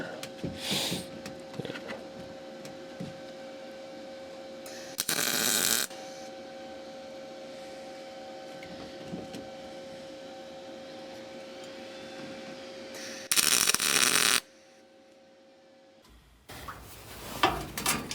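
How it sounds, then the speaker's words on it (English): Exhaust parts on a 1986 Ford F150 are tack welded, with a few short bursts of crackling, harsh noise over a steady electrical hum and quieter stretches between them. "Just gonna tack weld these together."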